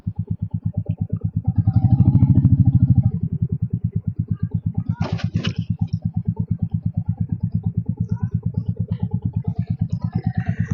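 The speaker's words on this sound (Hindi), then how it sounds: "अभी 2 बाइकर देखे हैं जाते हुए।" Motorcycles pass on a mountain road near Tabo in Spiti, India. A steady, close engine drone runs throughout and swells louder for about a second early on. No one speaks.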